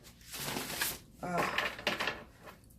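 Riffle shuffling a deck of Awakened Soul Oracle first-edition oracle cards makes two quick, crisp bursts of flicking card edges, close and fairly clear, each lasting under a second.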